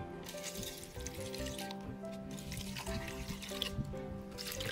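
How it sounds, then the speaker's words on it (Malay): Water pours steadily into a blender jar, four cups going in for blending pandan leaves, a continuous liquid trickle and splash heard close with no talking. "Sekarang dah ada blender mudah masukkan ke dalam balang blender bersama dengan 4"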